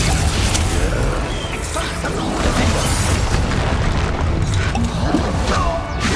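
A Confringo blasting spell erupts in a Hogwarts Legacy duel, a loud continuous barrage of booming, crashing blasts with dense broadband roar and no clear gaps across the whole stretch.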